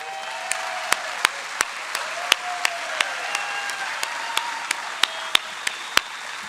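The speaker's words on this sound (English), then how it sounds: "I think we need a rousing cheer for what we're gonna do" A crowd applauds at the grand opening ceremony of the USF Porter Family Indoor Performance Facility: sharp, separate hand claps ring out at an uneven pace over a steady room hum, with no voices.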